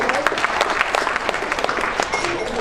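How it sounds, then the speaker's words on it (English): Audience at a magic show applauding a volunteer, with dense steady clapping from a close crowd throughout, no talk over it. "Everyone give Angel another huge round of applause."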